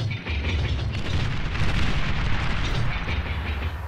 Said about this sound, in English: I'm literally bombing where I think he's gonna go.